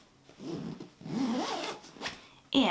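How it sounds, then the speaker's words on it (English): A zipper drawn shut along a pillow cover decorated with iron-on vinyl, a close, scratchy rasp running in a couple of long pulls with a brief pause between them, ending in a sharper final tug. "Just gonna go ahead and zipper this closed."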